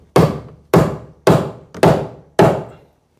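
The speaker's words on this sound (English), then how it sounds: "I like to go ahead and staple mine to the stud" A staple gun drives staples holding Romex cable to a wooden stud: five sharp, loud thunks at roughly even half-second intervals, each ringing briefly, with nothing else heard.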